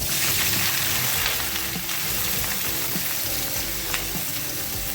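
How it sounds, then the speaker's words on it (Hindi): Onions frying in oil in a pan for keema karela, a dense, loud, unbroken sizzle heard up close with faint stirring knocks underneath. "अब हम इसी ही ऑयल में हम प्याज ऐड करेंगे जो हमने लिए हुए थे, इनको ऐड कर देंगे।"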